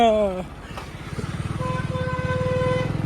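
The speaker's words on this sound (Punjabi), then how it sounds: "ਮੈਂ ਚਲਾਉਣਾ ਮੋਟਰਸਾਈਕਲ" A motorcycle ridden along a road, its engine a steady pulsing drone close by, with a voice briefly speaking at the start.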